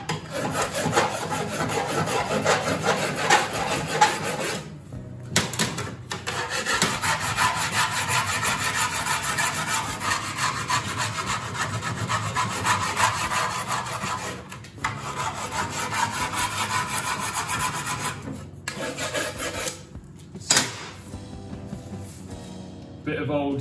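A fine hand file rasps along the wired edge of a sheet metal panel in long, steady, close strokes with a few brief pauses between passes.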